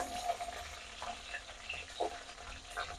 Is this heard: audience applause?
no